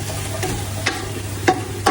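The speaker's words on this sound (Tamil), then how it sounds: "இப்ப வந்து எல்லாத்தையும் மிக்ஸ் பண்ணணும்" Biryani ingredients are stirred and mixed in a hot pan, a soft steady sizzle broken by a few sharp scrapes and clinks of the spoon against the pan.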